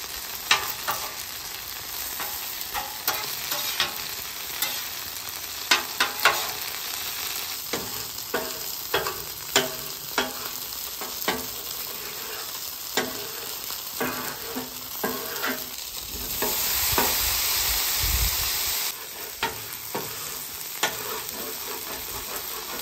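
Chicken and vegetables shallow frying in a layer of grease on a flat griddle, a steady hiss with frequent scraping and stirring clicks from a spatula, no voices.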